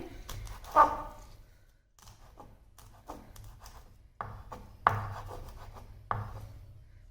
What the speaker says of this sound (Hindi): अब 1-2 हरी मिर्च हम कट कर लेते हैं